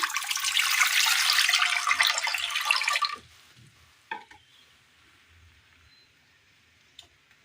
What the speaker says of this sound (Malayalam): ഇനി ഇത് തയ്യാറാക്കുവാനായിട്ട് കുക്കറിലേക്ക് ഒരല്പം വെള്ളം ഒഴിച്ചു കൊടുക്കാം